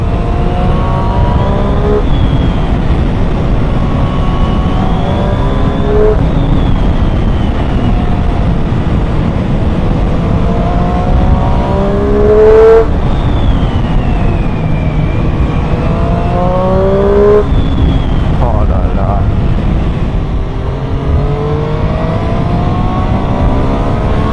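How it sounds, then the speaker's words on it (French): Triumph 765 Street Triple R motorcycle engine on a ride, loud and close throughout, with rising and falling revs through the gears and steady wind roar underneath. "Cette mélodie, j'espère que vous kiffez bien ma nouvelle moto autant que moi"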